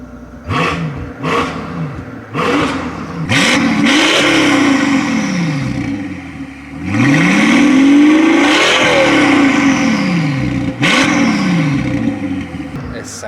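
A Mercedes S65 AMG engine with an aftermarket exhaust is blipped in several sharp revs, then pulled into longer, loud swells that rise and fall, close up, with a deep rumbling idle between pulls.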